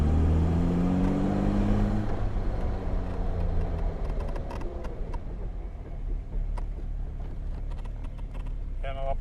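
Jaguar XK-120 engine pulls up through second gear, rising harmonic drone loud and close at first, then settling into a steady rumble with clicks and light mechanical ticks near the end.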